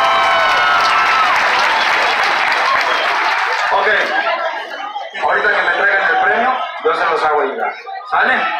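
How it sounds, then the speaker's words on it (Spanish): Dense crowd applause at a jaripeo rodeo dance contest in Colusa, California, loud for several seconds, then thinning into chatter, voices and chuckles. "¡Aplausos!"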